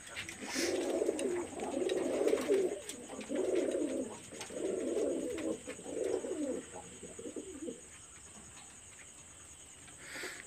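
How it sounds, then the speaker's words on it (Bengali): Pigeons in a loft with their babies coo in repeated rolling phrases, fairly close and clear, about six cooing bursts in a row before the loft settles into quieter rustling. "এগুলো কবুতর সবই বেবি নিয়ে আছে।"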